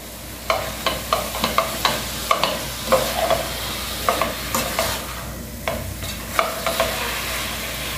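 Ground beef is stirred and broken up as it fries in a pan, making a quick, regular run of loud spatula scrapes and taps over a soft, steady sizzle.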